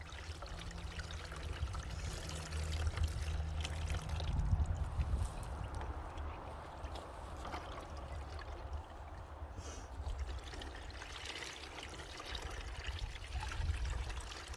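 Liquid pours steadily for a sea salt table project, a continuous trickling, splashing wash with low rumbling underneath and no clear pauses.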